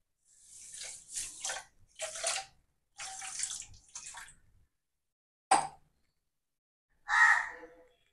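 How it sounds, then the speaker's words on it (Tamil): Water poured from a vessel over sugar in a pan while making Mysore pak, a few short splashing pours broken by pauses, close by, with no speech. "போட்டு மூழ்கிற அளவுக்கு தண்ணி ஊற்றிக்கணும்."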